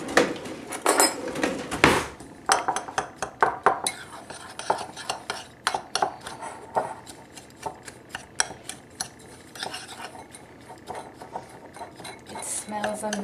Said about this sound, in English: And then mix together with a spoon.